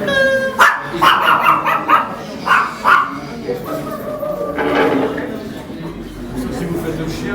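At a seed festival, a person's voice imitates a dog with a run of short, rhythmic barks and yips, close and loud, followed by a longer whiny vocal sound.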